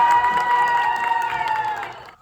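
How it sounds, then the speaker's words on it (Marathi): Groom's friends cheering at a ring ceremony for an engagement: a loud crowd of voices shouting and whooping over music and a sustained tone, fading out at the end. "नवरदेवाच्या मित्रांनी कसा जल्लोष केला बघाच"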